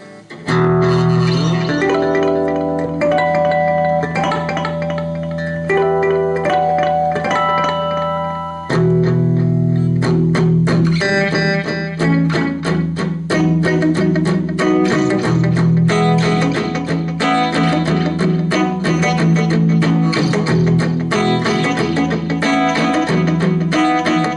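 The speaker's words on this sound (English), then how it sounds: "Now the classical digital delay." A guitar through a Boss digital delay pedal into a Roland JC-40 amp plays sustained notes and picked phrases with repeating echoes trailing each note, no voices.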